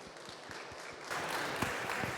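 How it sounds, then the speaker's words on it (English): Conference audience at Craft Conf clapping to welcome a speaker to the stage, sparse individual claps at first that swell into fuller, louder applause partway through, heard from a distance in a large hall. "Let's welcome Márton with a huge round of applause"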